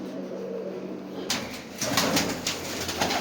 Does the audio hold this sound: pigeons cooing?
yes